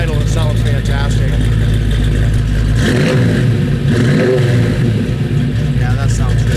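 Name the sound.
1971 Camaro Z28 exhaust revving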